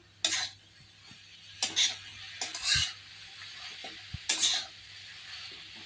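Boiled potatoes with plenty of chopped green coriander stirred in a frying pan, a spatula scraping in several distinct strokes with a faint sizzle underneath, close and clear, no speech.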